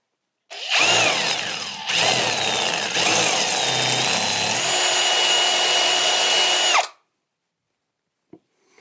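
A power drill with a new, sharp M6 bit bores through a metal fork brace for a Honda Rebel 250, a loud, steady whine lasting about six seconds with a few pitch shifts, then cutting off abruptly.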